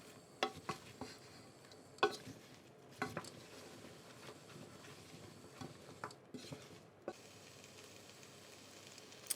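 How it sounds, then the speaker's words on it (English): Leeks being stirred into butter in a pot, a quiet run of spoon knocks and scrapes against the metal with a faint sizzle between them, irregular and close. "Get the first batch stirred in, get them all coated in butter"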